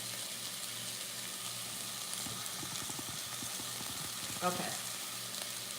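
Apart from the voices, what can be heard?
celery and onions sauteing in a pan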